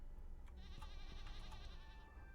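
A goat in the video game Stardew Valley lets out a wavering, drawn-out bleat, clear and moderately loud over a low steady background.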